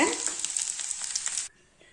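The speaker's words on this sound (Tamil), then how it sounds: "கோவக்காய் ஒரு பத்து நிமிஷம் வறுத்து வச்சாச்சுங்க" Ivy gourd (kovakkai) sizzling as it fries in a pan, a dense, crackling hiss that holds steady for about a second and a half, then cuts off abruptly to near silence.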